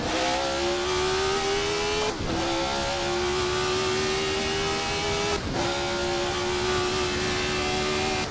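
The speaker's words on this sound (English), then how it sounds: "under my dumb voice is the sound of tires squealing" A race car's tires squeal on track in Assetto Corsa, running grooved tires. The engine roars continuously at close range, and a sustained tonal squeal drops in pitch between two brief gear-change breaks.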